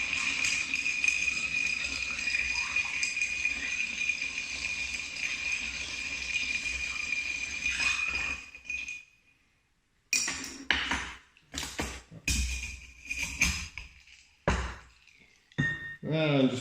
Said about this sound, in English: So just a quick stir